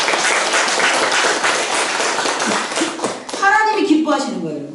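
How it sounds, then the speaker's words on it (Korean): A church congregation at a Sunday worship service claps together in dense, continuous applause, which gives way to voices and a tonal sound near the end. "우리 하나님 앞에 영광의 박수 한번 쳐라"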